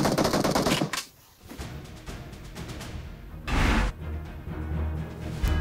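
Video game gunfire rattles in rapid automatic bursts, a sharp volley at the start, then quieter shots and a second loud burst midway, with no talking over it.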